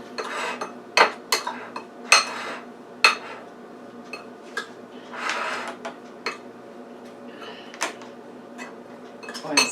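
Creole seasoning rub being mixed in a bowl for beef brisket, heard as sharp intermittent clinks and scrapes of utensil against the bowl, fairly close and quiet.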